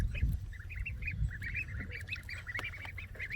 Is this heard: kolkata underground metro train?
no